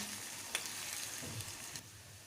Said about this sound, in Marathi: कांदा लसण आपल्याला चांगला लाल होईपर्यंत फ्राय करून घ्यायचं आहे